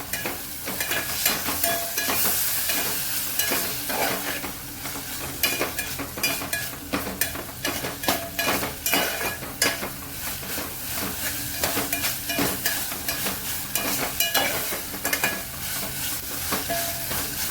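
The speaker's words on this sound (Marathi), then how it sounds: "थोडंसं दही घालून घेणार आहे. चांगलं परतून घेऊया." Yogurt and rice are sautéed in a pan for veg pulao, a loud, steady sizzle broken by quick, repeated spatula scrapes and stirring strokes, with no speech.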